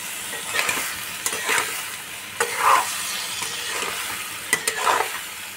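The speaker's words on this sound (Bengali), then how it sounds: "মশলাটা যাতে মিশে যায় সেই জন্য আস্তে আস্তে আমি নেড়ে দিচ্ছি।" Soybean chunks and potatoes are stirred in hot spiced oil for a mung masala dish, with steady close sizzling broken by repeated scraping, clinking strokes of a spoon against the pan.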